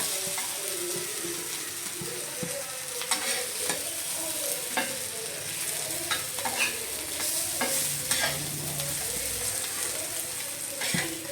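Steady stir-frying of egg masala chapati in a pan, with continuous sizzling and repeated scraping, clattering strokes of a spatula against the metal, close and fairly loud with no talking.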